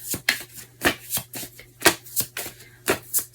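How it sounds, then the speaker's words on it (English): Tarot cards being shuffled by hand in a series of crisp riffling bursts, about a dozen quick rustles close up with short pauses between them, no voices. "For Gemini, I want one more card"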